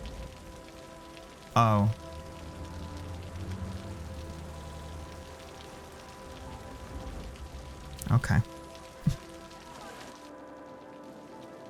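Steady rain patters in Cities: Skylines, a soft continuous wash under the scene, broken by a few brief louder knocks and a short spoken exclamation near the start and end.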